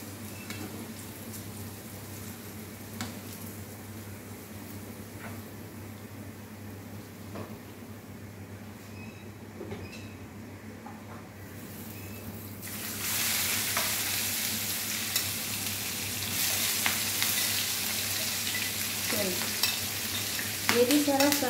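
Bitter gourd and minced meat fry in a pan with a steady sizzle, joined by stirring scrapes; the hiss swells louder about halfway through as the cooking intensifies. No one talks.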